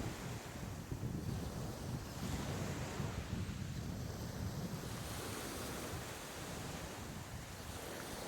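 Sea waves rolling onto an Algerian beach: a continuous, loud wash of surf mixed with heavy wind buffeting the microphone, steady throughout with no voices.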